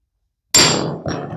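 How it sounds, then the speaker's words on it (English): A hammer strikes once with a sharp, loud, close impact that rings briefly, followed by a second softer knock, during an electrician apprentice's jobsite work. "hammer does what a hammer does"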